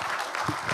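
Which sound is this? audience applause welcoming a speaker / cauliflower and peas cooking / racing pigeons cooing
audience applause welcoming a speaker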